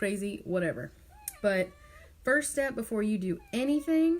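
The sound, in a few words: cat meowing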